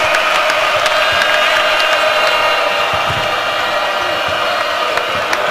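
A large home crowd of Nebraska Cornhuskers fans roars continuously in a college basketball arena during a game against Michigan State, a dense, loud, sustained wash of cheering.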